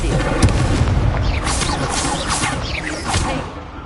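Incendio fire spell cast in a Hogwarts Legacy duel, a loud booming burst with whooshing flame swells and sharp hits layered over busy battle effects, close and continuous.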